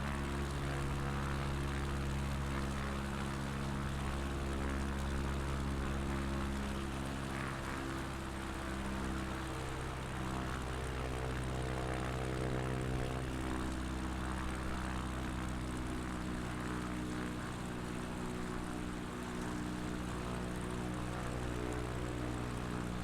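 A propeller plane drones steadily in Flight Simulator 2020 during a Patagonia bush trip with full flaps set, its engine hum loud, close and unbroken throughout with layered tonal harmonics.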